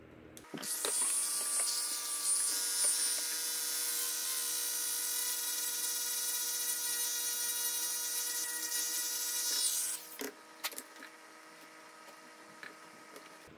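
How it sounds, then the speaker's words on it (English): A Dremel rotary tool grinds during a cargo net repair on a W126 Mercedes 300SD front seat back, giving a loud, steady high-pitched whine for about nine seconds, then cutting off and leaving faint handling noises. "I've got the Dremel tool here and it works well, so I'm going to use that"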